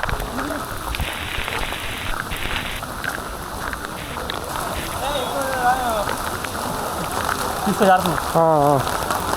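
Steady rain patters on surfaces close by at Vellore Fort while people talk over it, with a short burst of voices and movement toward the end.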